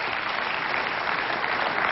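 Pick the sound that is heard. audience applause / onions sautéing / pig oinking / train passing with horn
audience applause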